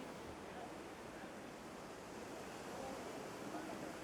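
Atlantic Ocean waves at Casablanca, Morocco: a constant, broad roar of surf heard from a seaside promenade, mixed with wind buffeting, steady and fairly soft throughout.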